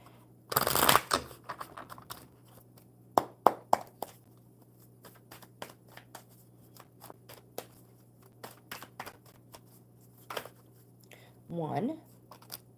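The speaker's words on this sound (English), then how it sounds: "All right, one more good shuffle for Raymond." Playing cards being shuffled: a loud riffle near the start, then scattered light snaps and taps of cards handled, with another riffle near the end.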